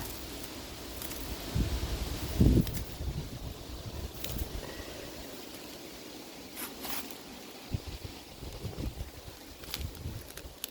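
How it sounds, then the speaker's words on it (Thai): Strong wind gusts across an open outdoor spot in a cold-season forest where wild ferns and mushrooms grow, rustling leaves and buffeting the microphone in uneven surges, with a louder blast early on and a steady rushing roar throughout. "ลมแรงหน่อยนะคะ วันนี้ค่ะ"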